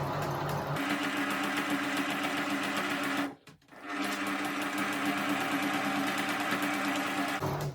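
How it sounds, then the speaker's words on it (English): Sewing machine stitching a 1/4 inch quilt seam, starting with a couple of back stitches, runs steadily and close, with one brief pause partway through before the rapid stitching resumes. "We're going to back stitch just to secure this."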